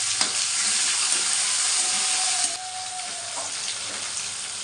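Tomatoes frying in a pan, a loud, steady close sizzle that drops to a quieter hiss partway through, with faint stirring and no talking.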